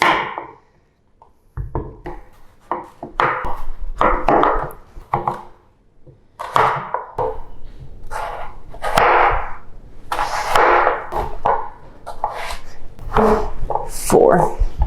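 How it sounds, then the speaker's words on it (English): Knife chopping halloumi cheese into small chunks on a board, a run of close, fairly loud chopping strikes coming in uneven bursts with short pauses, no talking. "So we'll chop it into chunks because we're a little bit hungry and a little bit in a hurry"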